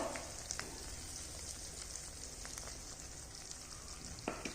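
Green chilies fry gently in a pan over a low gas flame, giving a soft, continuous sizzle with scattered faint pops and a spoon scrape or two, quiet and close, with no voices.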